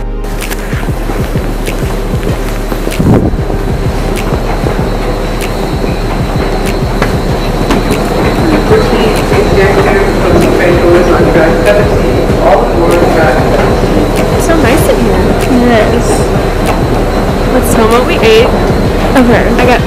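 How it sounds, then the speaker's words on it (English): A New York City subway train gives a loud, steady rumble and rattling clatter that lasts the whole stretch, with people talking over it. "Getting on the subway."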